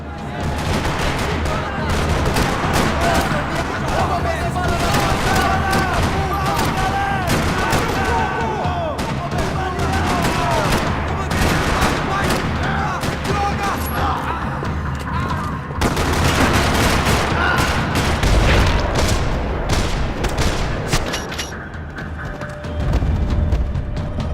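Dense, loud bursts of rapid gunfire and booming explosions in the video game Max Payne 3 rattle almost nonstop, with brief lulls between volleys.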